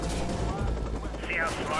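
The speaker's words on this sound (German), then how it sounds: "Auf mich wird geschossen." Gunfire in Watch Dogs near police, a dense spray of rapid shots continuing through the short stretch, loud and close, with a voice present over the game noise.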